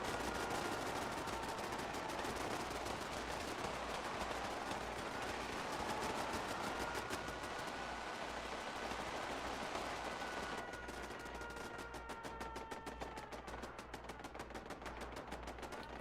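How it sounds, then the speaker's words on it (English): Turrets in Fallout 4 fire .50 caliber machine guns in sustained, rapid bursts, a dense stream of gunfire that runs steadily at moderate distance, with a mechanical hum beneath it and a shift in texture partway through. "Using those 50 cals."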